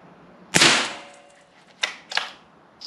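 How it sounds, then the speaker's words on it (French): A .22 Long Rifle shot ringing off scrap metal behind a target, one sharp crack with a short metallic decay, followed by two fainter clanks about a second and a half later. "On entend bien claquer, c'est que derrière il y a de la ferraille"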